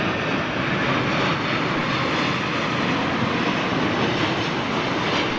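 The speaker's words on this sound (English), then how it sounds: "So, looks like Virgin's Dreamliner." A Virgin Boeing 787 Dreamliner jet roars at Heathrow airport, a loud, steady broadband engine rumble and rush holding constant throughout with no voices.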